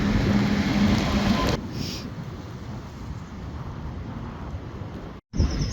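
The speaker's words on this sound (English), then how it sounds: "Get caught in a little bit of rain." Heavy rain mixed with hail and snow pattering close by at the Tardebigge lock flight, with gusty wind noise buffeting the microphone, loud at first then easing, with a short cut near the end.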